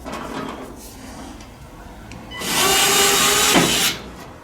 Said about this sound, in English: Then you can hit it with the screwdriver.